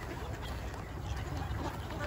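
Ducks gathered at the unfrozen part of a partly frozen lake in Anchorage, Alaska, quacking softly and repeatedly under a constant outdoor wind-like hiss, with no talk.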